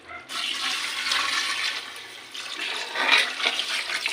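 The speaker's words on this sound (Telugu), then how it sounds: "ఇప్పుడు దీంట్లోకి వాటర్ పోసుకుంటున్నాను" Water pours into a pot of rice and chicken for biryani, making a continuous close gushing splash for about four seconds that swells and dips, with no talk.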